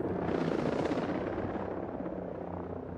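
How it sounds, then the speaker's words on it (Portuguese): Helicopter in the Ghost Recon video game, a steady, loud rotor drone that holds throughout with a slight swell early on, no voices over it. "Helicóptero."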